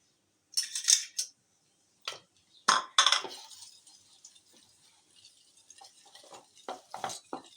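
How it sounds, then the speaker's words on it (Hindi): Eggs and cornflour being mixed in a bowl, giving sharp clinking and scraping strokes in irregular bursts, close and fairly loud against a quiet background, with no talking. "अच्छी तरह अंडे और कॉर्नफ्लावर को आप मिला लें, गुठली वगैरह ना रहे।"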